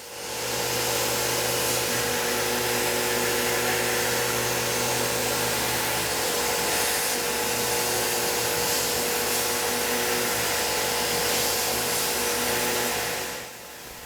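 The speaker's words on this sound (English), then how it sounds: "2D adaptive here with our standard 1/4 inch 3-flute Lakeshore carbide end mill" A DIY CNC machine runs a 2D adaptive toolpath with a 1/4 inch 3-flute Lakeshore carbide end mill, giving a loud, unbroken whine for about thirteen seconds before cutting off, with no talking.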